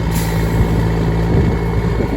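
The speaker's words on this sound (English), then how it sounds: "This is exciting because this is a big giant truck." A big crane truck rumbles steadily with a deep, close engine drone at a windy house-framing site where roof trusses are being raised.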